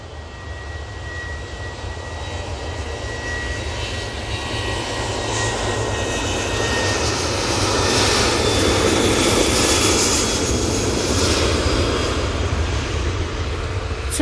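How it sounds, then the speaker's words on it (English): A TUI airliner bound for Ibiza accelerates down the Manchester Airport runway on its takeoff roll, jet engines building from a rising whine into a loud, sustained roar that swells toward the end, with no voices. "Tui on the roll."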